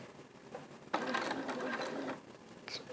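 Domestic sewing machine stitching a honey bun fabric strip over cord, a short burst of rapid mechanical whirring and clatter about a second long, close and fairly quiet.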